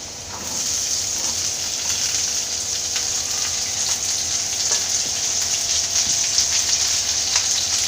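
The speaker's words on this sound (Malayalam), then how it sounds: "ഇഞ്ചിയും വെളുത്തുള്ളി ഒന്ന് മൂത്ത് വരുമ്പോൾ ഇതിലേക്ക് അരിഞ്ഞു വെച്ചിരിക്കുന്ന സവോള ചേർത്ത് കൊടുക്കാം." Chopped onion hits hot oil with ginger and garlic in a pan for Kerala-style potato masala, a steady close sizzle and crackle running evenly throughout with no voices.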